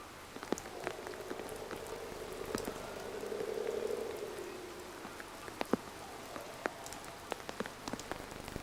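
Steady rain pours down outdoors where football players train. A dense hiss runs throughout with sharp drips and taps scattered over it, and a low passing hum swells in the middle.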